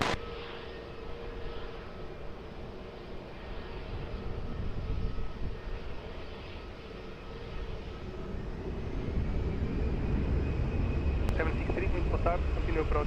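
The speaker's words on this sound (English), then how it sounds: "Airbus 319 is now departing" An Airbus 319 departing Lisbon Airport, a low steady engine roar at a distance that swells gradually louder, with a voice speaking faintly underneath.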